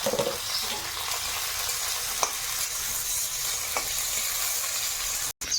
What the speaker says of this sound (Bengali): কড়াইতে একটু তেল দেবো এর মধ্যে শুকনো লঙ্কা পেঁয়াজ আর রসুন একসঙ্গে দিলাম